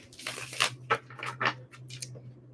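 Tarot cards being shuffled by hand, a run of close, crisp papery riffles and slaps in quick uneven bursts, with no talking.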